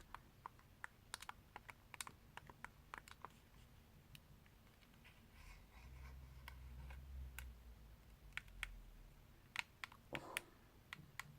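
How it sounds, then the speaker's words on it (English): Buttons on a Famicom-edition Game Boy SP click repeatedly in quick irregular taps, crisp and close against a quiet background, with a soft low rumble partway through and no talking. "Don't you just love the sound of those buttons just clicking away?"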